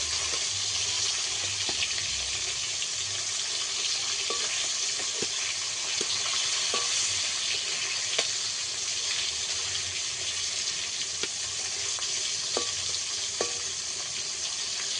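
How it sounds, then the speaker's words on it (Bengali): Hilsa fish frying in a pan of hot oil: a steady, loud broadband sizzle runs throughout, dotted with small pops and crackles, with no one speaking. "এই মাছগুলো ভাজা হয়ে গেলে তুলে নেবো।"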